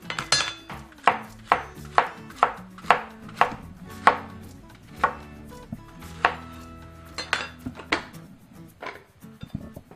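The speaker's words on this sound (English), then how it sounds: "Next, you chop it up into little chunks." A knife chopping plantain into chunks on a cutting board, with a dozen or so sharp, evenly spaced thuds in a steady rhythm, close and alone.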